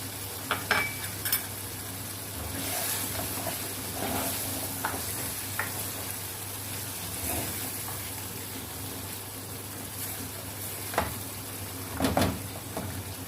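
Mutton pieces fry in desi ghee or oil inside a karahi, giving a steady low sizzle with occasional stirring clinks and scrapes, close and fairly quiet, with no one speaking.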